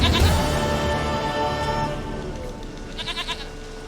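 In The Witcher 3 video game, a goat gives a quavering bleat that rises out of a dense bed of game music and ambience, with a short pulsing bleat near the end.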